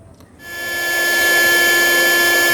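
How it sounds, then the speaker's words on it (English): A small battery-powered hammer starts up after a brief quiet moment and runs as a steady, loud, high-pitched mechanical whir, used during a box-to-box transfer of Tetragonula hockingsi stingless bees. "It's a little battery powered hammer, works really well."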